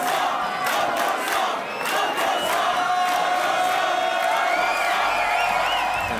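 A big crowd at a Sasha & John Digweed gig, heard as a loud, sustained roar of cheering and whooping with shouted voices above it, continuous throughout.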